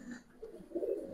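A Giribaz pigeon coos nearby, two or three soft, low, throaty coos following one another in quick succession, fairly close, with no talking.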